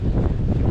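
A gust of wind while sailing upwind at around 19 knots, heard as a steady low rushing roar over the boat, buffeting the microphone without pause.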